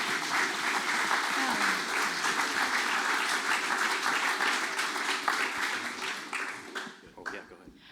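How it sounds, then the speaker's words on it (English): An audience applauds a photography lecture speaker in a hall: dense, steady clapping at full strength for about six seconds, then thinning out and fading to scattered claps near the end. "Let's give him a round of applause,"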